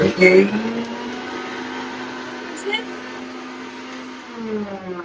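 A mixer grinder runs continuously with a steady, droning motor whine, close and fairly loud, and a few brief bumps and surges in the grinding.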